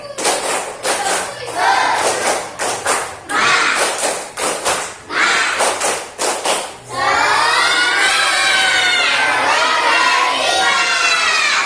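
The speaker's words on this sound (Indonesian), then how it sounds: "Tepuk semangat berkali-kali." Schoolchildren in a classroom clap a rhythmic spirit-clapping pattern in quick grouped bursts for about seven seconds, then burst into loud, continuous shouting and cheering.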